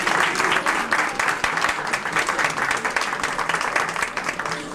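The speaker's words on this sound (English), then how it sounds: "give her a round of applause" Audience at a wearable art show applauding a model walking out, dense continuous clapping close and loud, steady from start to finish.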